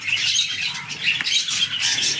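Budgerigars call at a park in Ramharipur, Bankura, with a dense, continuous chatter of shrill squawks and chirps close by, with no talking.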